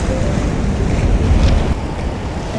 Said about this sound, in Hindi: ये समंदर है।